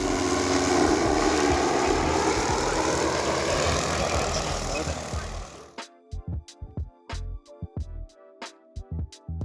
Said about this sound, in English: Right now I'm dumping the tank with the sprayer.